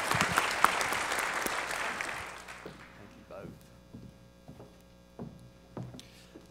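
An audience at a rural-focused conference session applauds loudly for about two seconds, the clapping tapering off into scattered claps over a steady mains hum.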